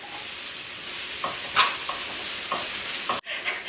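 Garlic and onions sautéing in a pan for pancit chopsuey give a steady loud sizzle, broken by a few utensil scrapes and stirring taps and a brief sharp clatter near the end.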